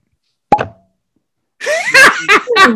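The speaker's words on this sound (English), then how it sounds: "Heidi, once again, has bought the Cork Pop Challenge, brand new bottle, and she wins." A cork pops out of a new bottle of Sazerac bourbon with a single crisp, close pop, followed after a pause by laughter and excited voices.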